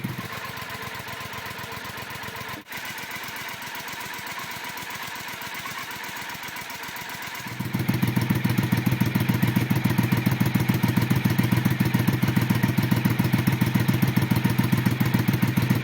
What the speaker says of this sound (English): We have some silencers changed out to some TOR pipes, and they sound fantastic